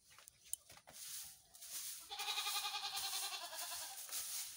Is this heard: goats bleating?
yes